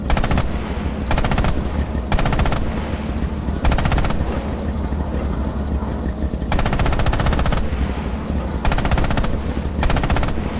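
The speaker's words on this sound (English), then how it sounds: "Open fire with the coax MG on those targets" A coaxial machine gun fires from a tank in the video game Red Orchestra 2. It comes as loud, rapid bursts of about a second each, repeated several times with short pauses, over a steady low engine rumble.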